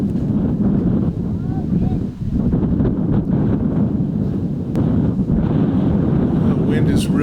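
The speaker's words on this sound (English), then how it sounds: "The wind is really giving Shelby a little bit of a hard time, though" Wind buffets the microphone steadily across an outdoor disc golf course during a women's tournament round, a loud, continuous low rumble with only brief dips, no voices heard.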